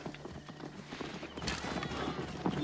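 Horse hooves clip-clop at a steady trot in the Assassin's Creed Origins video game, fairly close and clear against a busy game background with faint ambient noise.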